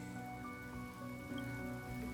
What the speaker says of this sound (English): Without this rain